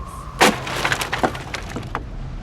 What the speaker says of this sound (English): the door flew into the wall behind them, smashing into tens of wooden pieces